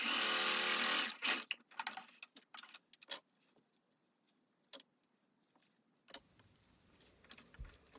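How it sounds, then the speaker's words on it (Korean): Sewing machine stitching the shoulder darts of a cashmere coat lining, heard as short separate bursts of fast mechanical whirring with gaps between them, close and clear, with no talking. "어깨 다트도 봉제를 해줍니다."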